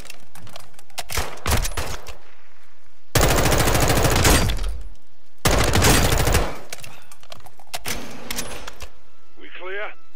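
Gunfire in the Modern Warfare campaign, with long bursts of rapid automatic fire and scattered single shots over a few seconds, loud and close, while voices speak between the volleys.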